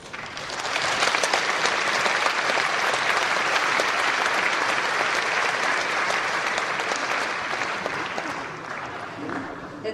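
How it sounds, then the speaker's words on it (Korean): A congregation at a church thanksgiving service claps warmly and continuously for nearly ten seconds, a broad, steady wash of applause with faint voices mixed in. "자, 큰 박수로 맞이해 주시며 인사 나눠주시기 바랍니다."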